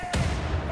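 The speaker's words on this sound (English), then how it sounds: "I think they just blew themselves up with a grenade." A grenade blast in the shooter game Wolfenstein: The New Order: one sudden broadband boom that rolls off into a low, rumbling tail over the rest of a brief moment.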